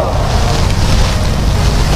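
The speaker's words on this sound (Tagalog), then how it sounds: "Mabandang lakas ng hangin." Strong wind gusts at an outdoor dove-hunting spot roar steadily across the microphone, a loud continuous rumble with no voices.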